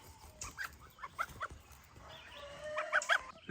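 Young goslings on a Canadian homestead peep and chirp softly in short, high bursts while grazing on weeds, with scattered faint calls close by and little else in the background.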